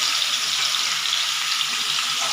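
Cumin seeds tempering in hot oil in a home kitchen give a steady, dense sizzle and crackle that holds evenly throughout, close and fairly loud, with no voices.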